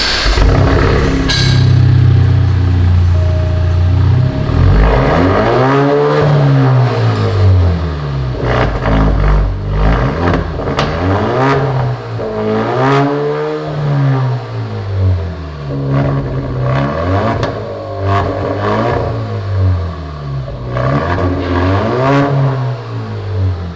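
Alfa Romeo Giulia fitted with a Remus catback exhaust and quad tips revving hard, with repeated rising and falling sweeps of the engine note, loud and close with no talk.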